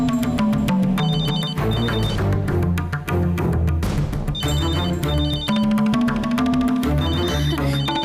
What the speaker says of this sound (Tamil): போன் அடிக்குது